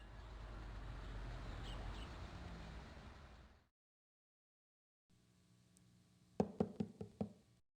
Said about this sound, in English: Just knocking on a green screen